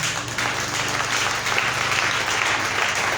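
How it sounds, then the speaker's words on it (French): A church congregation applauds to acclaim Jesus, a dense, steady wash of clapping from many hands that fills the room at even volume throughout. "Est-ce que quelqu'un peut acclamer Jésus?"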